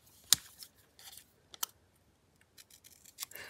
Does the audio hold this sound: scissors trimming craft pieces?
yes